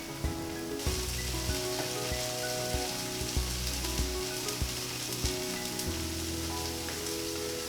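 A vegan pancake fries in a hot pan with a steady close sizzle, broken by several soft scrapes and taps as it is moved around so it won't burn.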